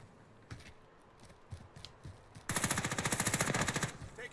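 A rapid automatic weapon burst fires in a fast, even rhythm for about two seconds in the video game Call of Duty Warzone, preceded by a few scattered single shots and faint movement sounds, with no talk.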